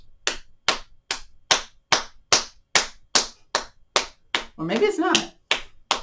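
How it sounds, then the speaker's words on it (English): Steady bare-hand claps in a gentle yoga session for back aches, about a dozen evenly spaced sharp slaps, close and loud, with a brief burst of speech near the end. "Clap the hands."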